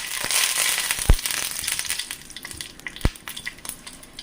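Curry leaves and dried red chillies spit and crackle in hot oil, a dense, close sizzle broken by a few sharp popping bursts that gradually settles into lighter crackling.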